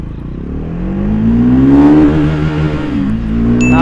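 A Triumph Speed 400 motorcycle pulls away in first gear from neutral on a bypass road, its engine note climbing steadily in a loud, close rising rev with a brief dip and recovery near the end.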